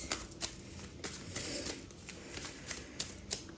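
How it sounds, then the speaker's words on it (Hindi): Tarot cards are shuffled by hand in a steady, continuous riffle of papery slaps and flutters, close and fairly quiet, with a few sharper card snaps standing out; no one speaks. "उनके लिए हम शफलिंग कर रहे हैं।"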